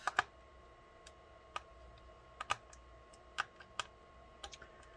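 Keys on a bare 13-inch MacBook Pro A1502 (mid 2014) keyboard being pressed during a replacement repair, sparse crisp clicks in small irregular clusters, close and fairly quiet, with no talking.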